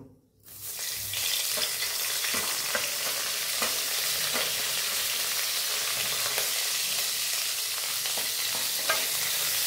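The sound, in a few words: vegetables with capsicum frying in a pan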